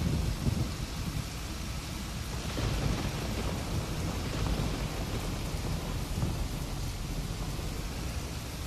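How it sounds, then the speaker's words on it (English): Steady rain with rumbling thunder in a farming simulation game, a continuous heavy hiss of rainfall with deep low rolls throughout, no voices. "Thunderstorms."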